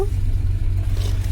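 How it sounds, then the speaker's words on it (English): Formula 1 race cars at a live race, heard trackside as a steady low engine drone with a faint passing whine, continuous and fairly loud with no talking. "you can hear all the cars"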